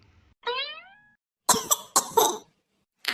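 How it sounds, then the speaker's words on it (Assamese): A cartoon character coughs in a short series of harsh bursts, preceded by a brief whining vocal sound. "আপোনাৰ কাহটো দিনক দিনে বেছি হৈ গৈ আছে"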